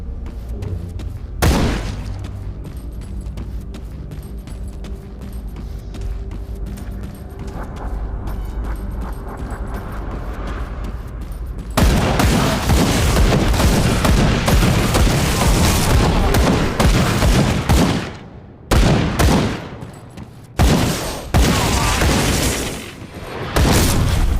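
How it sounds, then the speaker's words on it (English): Loud, dense explosions and rapid gunfire from the action game Grim Dawn, a sustained barrage of booms and crackling shots with a few brief drops before the blasts resume, close and overpowering. "Explosion."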